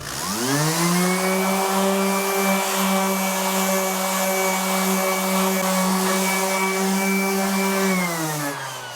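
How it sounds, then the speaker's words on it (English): Electric guitar body sanded with a power sander while building a guitar, a loud steady motor whine with strong harmonics holding level for about eight seconds before spinning down at the end, no talk. "I've already sanded this side really quickly."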